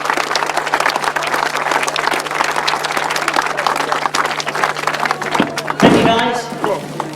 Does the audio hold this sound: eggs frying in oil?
no